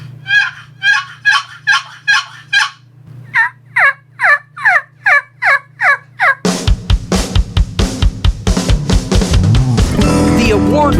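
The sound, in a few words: turkey gobble call imitating a gobbler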